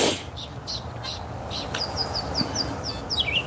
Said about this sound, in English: there is a bird making some pretty cool sound over here